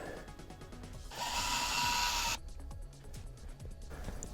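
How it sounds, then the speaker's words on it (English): Power drill boring a hole down through a foam-filled jetpack prototype, a steady loud whine lasting just over a second between quieter workshop handling noises. "Now I'm going to drill a hole as straight as I can"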